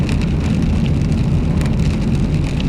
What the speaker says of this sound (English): the rain's just started now